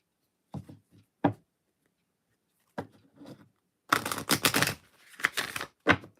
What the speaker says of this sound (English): I'll shuffle the cards while I read it.